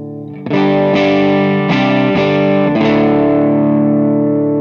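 Distorted electric guitar chords through a PlexMan DW amp, a handful of loud strummed hits about half a second apart, each ringing into the next, with the last chord sustaining and fading slowly, no talk.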